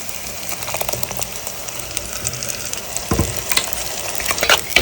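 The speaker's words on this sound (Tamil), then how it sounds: "நம்ம இப்போ தேங்காயும் தக்காளியும் விழுதாக அரைச்சி வச்சுக்கிறத ஊற்றிடலாம்." Coconut and tomato paste hits frying onions and garlic for vatha kulambu, a loud steady sizzle with spattering crackles and clatter of stirring throughout.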